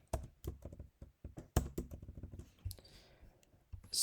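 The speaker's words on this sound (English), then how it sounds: "Sorry, we can type that." Rapid typing on a computer keyboard during a radiomics coding tutorial, with irregular bursts of close, crisp key clicks separated by short pauses.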